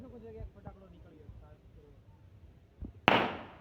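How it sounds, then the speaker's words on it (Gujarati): A single firecracker goes off in a residential society, one sharp loud bang near the end that decays quickly, following a stretch of quieter talking. "તો ગાઈસ તમે જોઈ શકો છો કે એક ફટાકડો નીકળ્યો."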